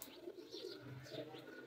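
Soft cooing of Ferozpuri pigeons, a few low throaty coos close by in a short burst, with no speech.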